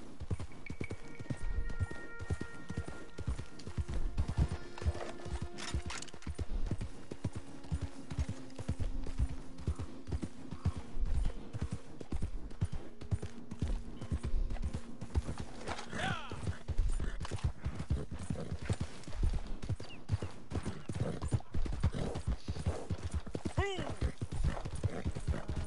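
Steady horse hooves clip-clopping throughout in Red Dead Redemption on PS4, with an occasional whinny and voices speaking over the top amid a busy game soundscape.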